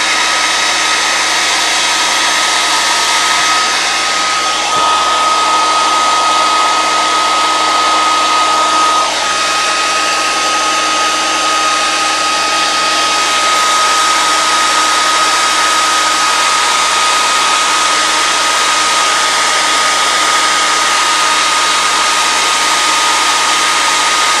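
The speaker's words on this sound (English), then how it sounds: "Now, funny thing with the heat gun actually" A heat gun runs continuously at close range during puppet arm and hand making, a loud steady blowing whoosh with a faint whine that holds unchanged throughout.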